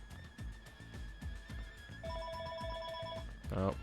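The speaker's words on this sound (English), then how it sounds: "phone call." A telephone ringing during a Hyrule Warriors gameplay stream, a steady repeating electronic ring over rhythmic game music, with hoof-like thuds and a horse whinny near the end and talk mixed in.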